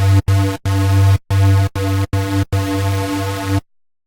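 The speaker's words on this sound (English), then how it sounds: "which in our case will just be the white noise sound from an ARP Odyssey synthesizer" Bursts of white noise from an ARP Odyssey patch recreated in the Serum synthesizer hiss in a row of short choppy gated chunks separated by brief silent gaps, then cut off abruptly.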